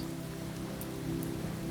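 Steady rain falls on the Cape Cod shore, an even, soft wash with no distinct drops standing out.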